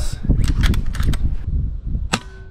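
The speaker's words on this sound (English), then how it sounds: "Oh, I can't believe I got that first shot." An air-powered sniper rifle fires at a distant target during long-range wind-holding practice, with a sharp shot and quick metallic clatter, then a second crisp report near the end, loud and close.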